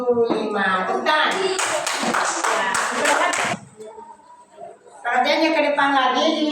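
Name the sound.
classroom applause, hands clapping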